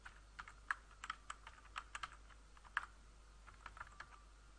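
A password is typed on a computer keyboard as a quiet run of irregular key clicks, some sharper taps standing out, with no talking.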